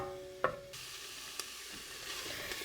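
Garlic and onions sautéing in a pan give a low, steady sizzle with a couple of sharp clinks of a utensil on the pan, close and quiet, with no speech.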